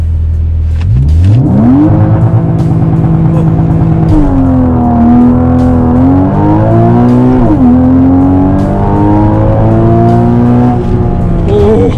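A 2015 Porsche Boxster GTS engine revs up to 6,000 rpm and holds high, its pitch climbing and dipping as it strains, then surges again in a steady, roaring launch acceleration.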